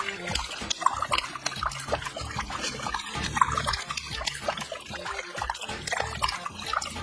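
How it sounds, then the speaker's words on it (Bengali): A tap left open lets water run and trickle into a basin in the dark, a continuous splashy patter heard close and fairly loud throughout, with no speech over it. "এই তো জলের সাউন্ড আসছে"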